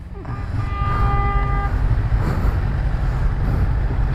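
A loud vehicle horn blares for over a second at a toll booth amid heavy low engine rumble, then traffic noise continues.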